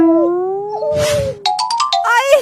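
A dog howls in a long, wavering, sliding tone that dips and climbs, joined by a burst of rough noise midway and brighter yelping, yowling calls near the end, loud and close with no talk.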